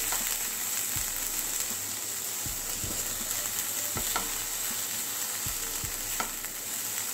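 Peas and mixed vegetables tossed and stir-fried in a pan for hara bhara kabab, giving a steady close sizzle with repeated scraping and stirring knocks throughout and no talking.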